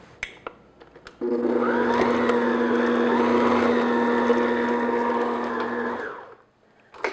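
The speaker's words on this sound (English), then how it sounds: "we're going to mix for 4 minutes on first speed of your mixer" A stand mixer runs steadily on its first speed through stollen dough, a loud continuous motor whir starting after a few faint clicks and lasting about five seconds before winding down.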